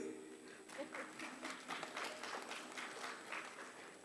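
An audience at a live alumni association event claps in a short patter of scattered handclaps, faint and distant, with some voices mixed in.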